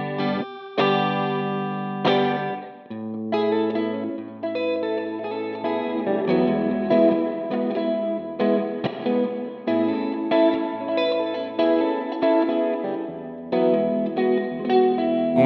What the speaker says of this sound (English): it's on plate, so it's on this plate reverb we've got.